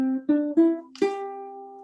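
Opening notes of a melody plucked on guitar, three short notes in steady rhythm then a fourth held and ringing out, close and clear with no talking.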